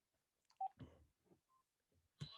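Telephone keypad tones sounding as a phone is switched off, a brief beep followed by a few sparse, faint clicks and a short tone, quiet and intermittent.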